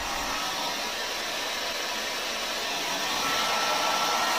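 A hair dryer bought from AliExpress, sold as low-noise, runs steadily with a loud, even broadband whoosh, growing slightly louder toward the end, with no other sounds.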